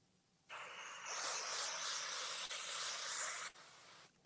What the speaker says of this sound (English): So this is a 505 spray.